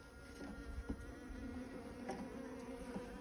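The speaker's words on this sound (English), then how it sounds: "Again, just a couple of bees on there." Honeybees buzz around a hive frame in a steady, close, continuous drone with small swells, no voices.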